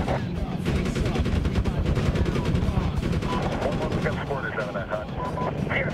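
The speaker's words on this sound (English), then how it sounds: "They did a really good job with the explosions on this game." Dense gunfire and explosions from the 2010 video game Medal of Honor crackle in rapid bursts, continuous and loud throughout, with machine-gun rattles layered over booming blasts and brief radio-like tones near the end.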